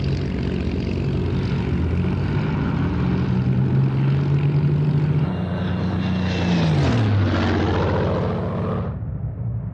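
A Spitfire fighter's piston engine drones loudly overhead, a steady propeller roar with a rising then falling pitch as it passes close by, ending in a sudden cutoff.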